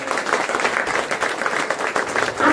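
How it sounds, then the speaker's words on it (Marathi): A crowd at a village kirtan in Bahirewadi, Gadhinglaj, applauds in a dense, steady roar of many hands, loud and sustained throughout and rising slightly at the end. "ज्यांनी सुंदर अशी सिस्टीम लावली महाराज त्यांच्यासाठी टाळ्या वाजवा"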